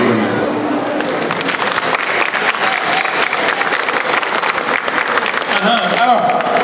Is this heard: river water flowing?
no